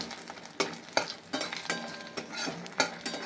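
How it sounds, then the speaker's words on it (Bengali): Fish frying in hot oil in a home kitchen pan, a steady close sizzle broken by several sharp scraping stirs, no talking. "এদিকে মাছটা ভাজা হচ্ছে"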